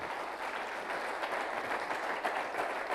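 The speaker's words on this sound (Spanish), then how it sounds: "Dale un aplauso fuerte al Señor." A church congregation claps in sustained, dense applause, a steady wash of many hands heard at moderate distance without talk.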